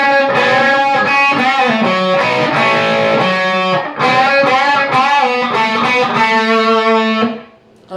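Distorted electric guitar plays a solo measure from a song, with repeated unison bends on the second and third strings, loud and sustained lines running about seven seconds before fading out, no voices.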